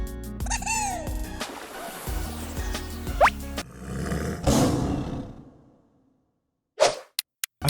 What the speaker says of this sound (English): It's the lion's roar.